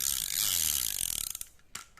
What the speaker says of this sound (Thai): หมุนเรื่อนหน้ามีเสียงแบบนี้นะครับหมุนเลื่อนเลย